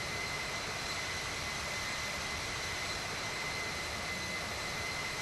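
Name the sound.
airliner jet engines at takeoff in a flight simulator video game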